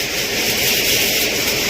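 A tractor-driven farm machine runs with a steady, loud mechanical whine and broadband roar, continuous and close with no talking.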